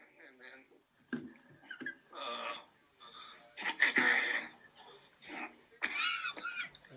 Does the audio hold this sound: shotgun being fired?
no